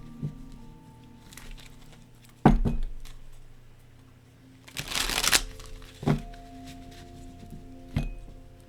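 A deck of cards is shuffled in a quiet room, with a few sharp riffles and one longer bridging burst spread across several seconds.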